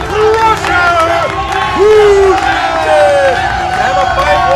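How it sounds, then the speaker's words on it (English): A crowd at a Schmoedown viewing party cheers and claps steadily throughout, a dense wash of applause and whoops with voices shouting over it. "Christian getting a big round of applause"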